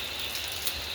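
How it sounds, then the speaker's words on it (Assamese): Steady rain falling all around a canal-side village, a close, even hiss of drops on surfaces with no break across the moment. "চাৰিওফালে পূৰা বৰষুণ দিছে"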